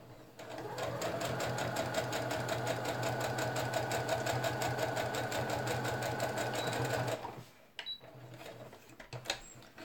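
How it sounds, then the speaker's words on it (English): A sewing machine top-stitching a handmade wallet runs in a fast, steady mechanical chatter for about seven seconds, then stops, leaving a few faint handling clicks. "I'm just doing top stitches on either side."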